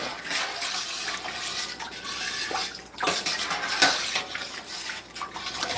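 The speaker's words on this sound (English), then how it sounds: "I'm gonna actually stir this up together really quick" A spoon stirs homemade pumpkin soup in a pot, just seasoned with cinnamon and black pepper. It produces a continuous, fairly loud swishing and scraping with a few brief metallic knocks.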